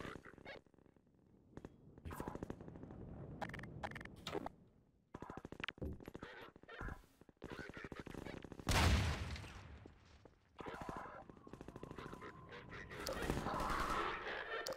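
Rifle fire in the video game Half-Life 2 crackles in bursts of sharp shots mixed with other game noise, uneven and fairly faint overall, with a person briefly talking.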